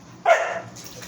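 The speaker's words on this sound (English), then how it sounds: "Dog, shut up." A dog gives a single sharp bark up close, loud and short, then quiet room tone follows.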